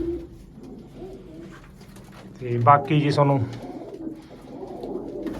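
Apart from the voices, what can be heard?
pigeons cooing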